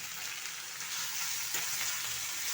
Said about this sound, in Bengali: টমেটোটা এর সঙ্গেই ফ্রাই হবে, মানে ভাজা হবে।